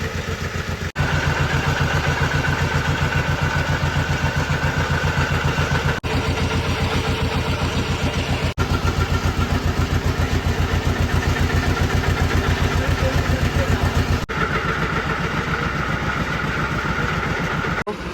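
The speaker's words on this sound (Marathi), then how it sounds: "बोट स्टॉप केली आता आणि आता रिव्हर्स गेअर टाकलाय" A fishing boat's engine idles at sea with a loud, steady, close chugging rhythm that runs throughout, briefly interrupted by a few sharp breaks.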